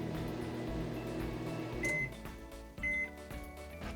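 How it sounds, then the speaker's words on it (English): A microwave oven melting chocolate hums steadily, then gives two sharp electronic beeps near the end with clicks as the door and controls are handled, close and fairly quiet. "Now I'll melt it in the microwave."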